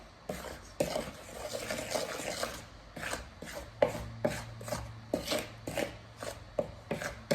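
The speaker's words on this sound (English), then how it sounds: "we're just gonna mix our dry ingredients together a little bit" Dry buttermilk pancake ingredients are mixed in a bowl, giving a string of soft, rhythmic taps and scrapes at a fairly quiet level with no talking.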